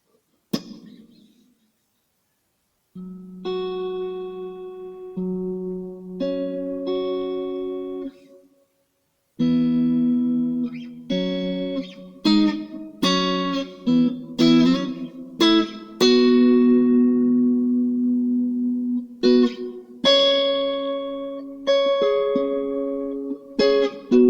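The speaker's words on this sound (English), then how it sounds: "halo is cool because it puts a harmonic over your notes" An electric guitar runs through a reverb pedal's Halo mode, which lays a harmonic over each note. Fingerpicked notes and chords ring out with shimmering tails, first sparse with gaps, then busier and louder, with no talking.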